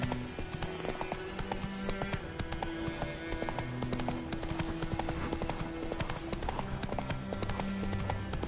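Roach, a horse in the video game Witcher III, gallops with rapid, continuous clip-clop hoofbeats over a bed of background game ambience and music.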